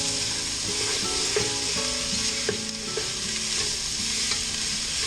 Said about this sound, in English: Our onions and our garlic are starting to brown up real nice